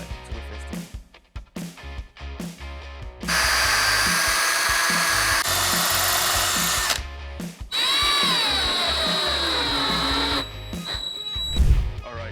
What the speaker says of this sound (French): On perce maintenant les trous pour nos traverses.